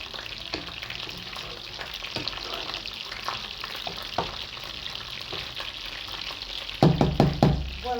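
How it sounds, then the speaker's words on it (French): Vegetables in peanut sauce sizzle and fry in a casserole pan while being stirred, with steady sizzling, scraping spoon strokes and a few louder knocks near the end; no talking. "On mélange bien notre casserole."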